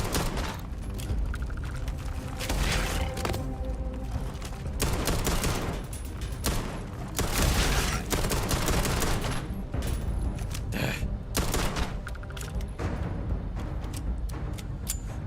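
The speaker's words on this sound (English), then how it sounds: "I like this gun much better because I can spam it." Rapid, sustained gunfire from a weapon in the game Starfield, loud bursts of shots repeating steadily throughout with a dense, continuous rattle and no talking.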